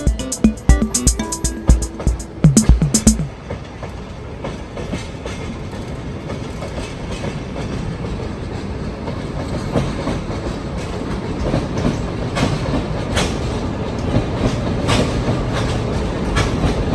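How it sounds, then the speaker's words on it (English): Sagano romantic sightseeing train rolling past in Arashiyama, Kyoto, with a steady rumble and rhythmic clickety-clack of wheels over rail joints, sharp clanks near the start, then a sustained rolling roar that stays loud and close. "They call it the romantic train."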